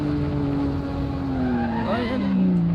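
Tires of a BMW M4 in the racing simulator Assetto Corsa squeal loudly in a sustained skid as the car slides out of control, the pitch sliding downward over a steady engine drone.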